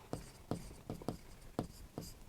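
Marker or chalk writing on a board in a maths lesson on graphs, six or so distinct tapping strokes in an uneven rhythm, close and fairly quiet with faint room noise.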